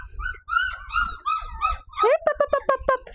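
Five-week-old puppies outside give a run of thin whimpers followed by quick, sharp yips, several overlapping calls close by with brief pauses between them.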